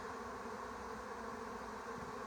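A honeybee swarm lifts off together, a dense, continuous buzzing drone from many bees that holds steady and loud throughout, with no voices.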